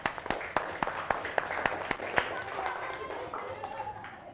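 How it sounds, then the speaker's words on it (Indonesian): Children in a primary school classroom clap their hands, a quick run of sharp, fairly close claps that fades into a murmur of young voices talking. "Nah, tepuk tangan dulu."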